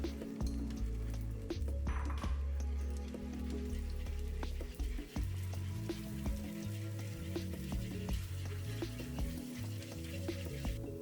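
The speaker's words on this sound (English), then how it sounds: "Then to a hot pan, I'll add in some oil, add and quickly scramble" Eggs being quickly scrambled in oil in a hot pan, with a close sizzle and frying crackle under scattered clinks and scraping stirs.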